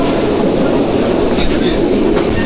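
The Burimari Express passenger train runs between Rangpur and Santahar, heard from inside as a loud, constant rumble of wheels on rails with a steady rattling clatter throughout.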